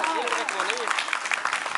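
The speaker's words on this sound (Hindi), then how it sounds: "आगे से तालियां होनी चाहिए दोस्तों," An audience at an Independence Day celebration programme applauds steadily, while a voice speaks over the clapping at the start.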